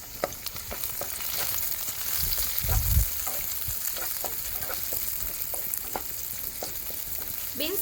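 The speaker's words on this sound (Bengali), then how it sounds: "একটু ভাজা ভাজা করে নেব" Beans, potatoes and chopped tomato sizzle in hot oil in a pan for homemade chowmein, a steady close frying hiss with sharp scrapes and clinks of stirring, a brief heavier clatter around the middle, no voices.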